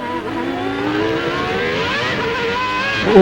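Formula 1 cars racing at the 1995 Australian Grand Prix, a high-pitched engine whine rising and shifting as cars pass, steady and loud, with a sharper burst near the end.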